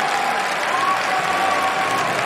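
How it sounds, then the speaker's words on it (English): A large audience claps and cheers at the Pokémon World Championship final, dense sustained applause filling the hall. "The crowd is on their feet."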